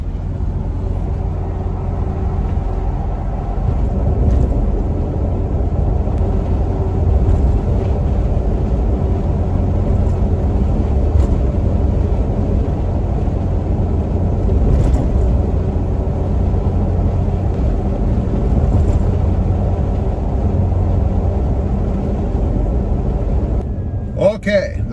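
Toyota Tacoma with a window down driving over a rough road, a heavy low rumble of tires and engine that stays continuous and loud, with faint knocks and a brief noise at the end.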